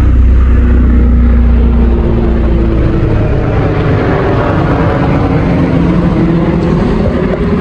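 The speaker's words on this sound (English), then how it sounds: "And that was a helicopter." A loud, steady mechanical roar and rumble runs throughout with no break, a helicopter flying close overhead at an orchid nursery.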